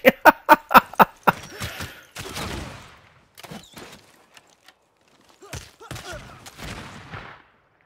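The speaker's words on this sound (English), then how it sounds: "Need to get the cannon in range." Cannon fire in the strategy game Civilization VI: a rapid volley of about six sharp booms in the first second, then scattered heavier blasts and rumbling impacts that fade over several seconds.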